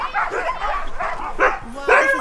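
Huskies in Lapland, Finland, bark and yip together before a sled ride, a dense, loud chorus of many dogs close by with overlapping bursts rising in intensity toward the end.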